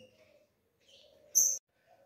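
A caged blue grosbeak feeding on farinhada gives one quick, sharp chirp amid near silence, with faint soft rustles around it.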